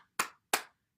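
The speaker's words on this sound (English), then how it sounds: "Let's clap our hands, stimulating the heart." Two sharp, separate hand claps ring out close and clear against silence during a morning bouncing exercise session, evenly spaced about a third of a second apart.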